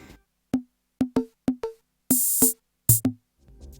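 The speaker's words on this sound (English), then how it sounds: "what I have done with the Volca beats is that I have first programmed just a basic rhythm like this" A Korg Volca Beats drum machine taps out a simple, sparse beat of punchy electronic kicks and toms, with two bursts of bright hissing cymbal or snare.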